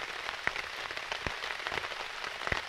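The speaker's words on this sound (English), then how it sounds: "That's rain, boys." Rain drumming steadily on a tarp outdoors at a camp, a dense close patter with a few sharper louder drops standing out, no voices.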